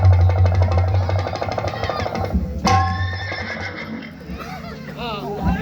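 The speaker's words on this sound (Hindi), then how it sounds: "देखिए ये विचित्र घोड़ा यहाँ कैसे आ गया।" A horse's whinny rings out partway through a Ramlila stage performance of the Ramayana's Lav-Kush episode, rising over a busy background of voices and low hum before fading into quieter warbling calls.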